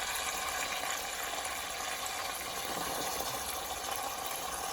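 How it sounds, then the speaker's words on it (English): A steady stream of water mixed with vinegar pours continuously over a pot roast, a soft hissing splash with no pauses and no voices. "I'm gonna go ahead and pour this 1 cup of water with the vinegar"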